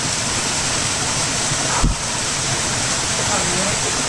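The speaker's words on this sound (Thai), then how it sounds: "น้ำตกเนี้ยไหลเป็นเส้นแล้วก็น้ำเนี้ยไหล ยาวไปเรื่อยเลยนะ" A waterfall flows in long streams at a scenic Thai forest spot, a loud, steady rushing wash of water that fills the scene.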